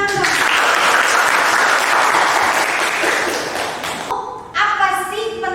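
Classroom applause, a dense burst of many hands clapping together, loud and close, that holds steady for about four seconds, then stops abruptly, after which a voice begins speaking.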